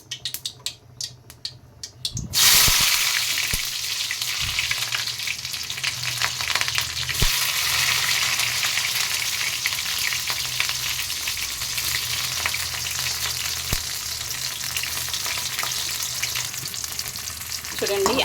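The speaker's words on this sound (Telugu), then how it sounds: "చూడండి, ఆనియన్స్ వేగాయి." Onions dropped into two spoons of hot oil burst into a loud close sizzle after a quiet start, then fry steadily with crackling and occasional stirring scrapes, no voices.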